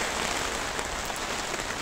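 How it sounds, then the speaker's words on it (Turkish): Heavy rain pours down steadily around a vehicle fitted with a side awning and tent, a dense constant hiss close by with no voices. "Maşallah ne yağmur yağdı ha."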